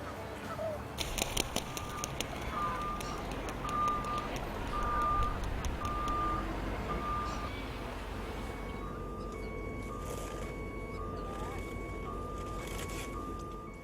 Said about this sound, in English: A forklift will pick that up and put it on a truck